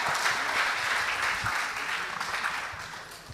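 Sustained crowd applause for the winning team at a school debate, dense and steady clapping that slowly tapers off.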